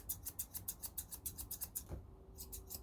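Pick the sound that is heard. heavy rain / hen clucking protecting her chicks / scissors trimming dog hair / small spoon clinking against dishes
scissors trimming dog hair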